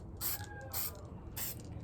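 Spray paint misted onto a box for a frosted finish, three short hissing bursts with brief pauses between, close and fairly quiet.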